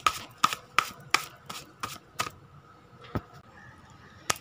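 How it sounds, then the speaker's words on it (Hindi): Tarot cards being shuffled and mixed by hand, a series of crisp, sharp riffling clicks and snaps about every third of a second, then sparser taps, close and fairly quiet with no talking. "कार्ड को फिर से एक बार मिक्स करूंगी।"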